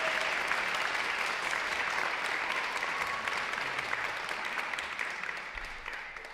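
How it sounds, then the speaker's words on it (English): An audience at an evening foundation awards event gives a sustained round of applause for donors, many hands clapping evenly and tapering off gradually. "can I get a round of applause for our donors?"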